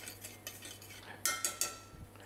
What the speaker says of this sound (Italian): Facciamo velocemente tostare il riso.